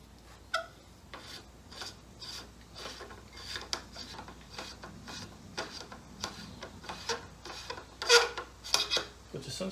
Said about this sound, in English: All right, let me just take this thing off.